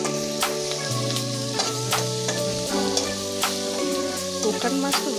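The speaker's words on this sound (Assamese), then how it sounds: "শুকান মাছটো বেছি ভাজিব লাগে" Dried fish fries in hot oil with onion, green chili and garlic, giving a steady close sizzle broken by sharp spatters and pops, over a faint steady hum.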